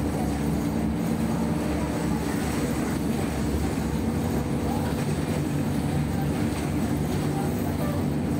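A twelve-car commuter train bound for Cikarang via Manggarai rumbles steadily on track 3 at a station, a loud, continuous drone with rail hum and no pauses.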